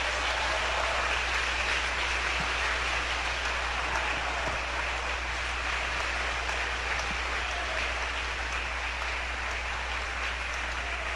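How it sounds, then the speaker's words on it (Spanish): Congregation applause in a church service, a steady, continuous wash of clapping that stays even and fairly loud throughout with no voices over it. "Bríndele el aplauso a Cristo."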